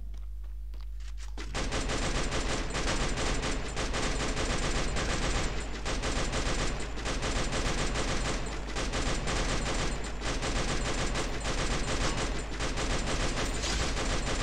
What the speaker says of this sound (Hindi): आज मैं चलाऊंगा भाई मशीन गन